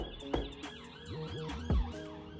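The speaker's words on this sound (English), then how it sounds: "always police sirens around here." Police sirens wail with rising and falling sweeps over a low, thumping music beat, steady and fairly loud for a couple of seconds.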